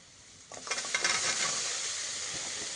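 A water lily and coconut mixture is stirred in a hot pan, a quiet moment before a burst of scraping and hissing sizzle that settles into a steady, close frying sound.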